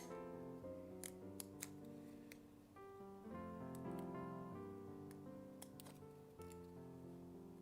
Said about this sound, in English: if I angle the scissors instead of cutting frequent small cuts, I start to fold it